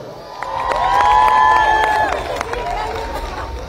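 A festival crowd at a GAMBOA 2025 concert show cheers and applauds steadily, with shouts and whistles rising and holding loud before easing slightly, while voices and tonal calls carry over the noise.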